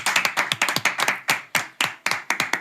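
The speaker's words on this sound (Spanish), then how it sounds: "Un aplauso para él, por favor." A handful of people clap in a short, uneven burst of applause for a guest on a Spanish-language talk show about lawyers; the claps are close, sharp and spaced, with no talk over them.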